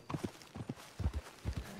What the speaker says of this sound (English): Is this a horse?